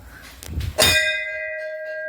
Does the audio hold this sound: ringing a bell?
yes